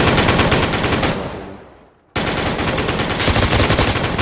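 Rapid automatic gunfire in a video game, loud and close, a dense sustained burst that fades to near silence before another loud stream of shots resumes abruptly.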